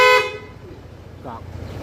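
A short, loud horn toot from a Honda ADV160 scooter at the start, followed by quieter road noise and a faint voice.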